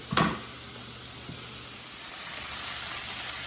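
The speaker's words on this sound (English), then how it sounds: "So the sausage is frying, really getting the grease off." A steady sizzle of smoked sausage frying in a pan, opening with a clatter and building into a constant crackling hiss.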